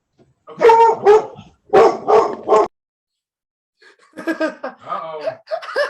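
A dog barks in short, loud bursts, two to three barks in each of two quick clusters, followed after a pause by a person speaking.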